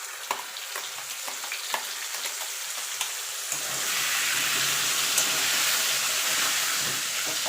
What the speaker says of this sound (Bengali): এবার দিয়ে দেবো টমেটো আর আদাটা যেটা পেস্ট করে রেখেছিলাম সেটা।